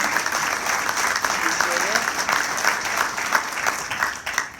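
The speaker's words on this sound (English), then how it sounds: "That's an appropriate applause for the location and the event that we're at." A comedy night audience applauds in a moderate, sustained patter of claps with some crowd murmur, as a male comedian's voice briefly cuts in over it.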